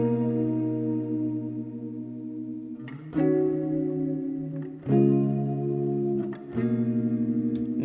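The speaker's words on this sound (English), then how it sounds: "I have a guitar melody from my guitar pack called Guitar Suite." A gloomy guitar melody from a sample pack plays slow sustained chords with chorus and echo effects, changing chord every couple of seconds, steady and moderately loud with no voices.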